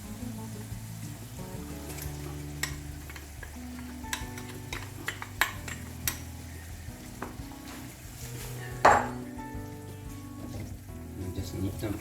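Tuna sauce sizzles and bubbles in a pan while a spoon stirs it, a steady crackling frying bed with scraping knocks and one sharp clatter near the end, with no speech over it.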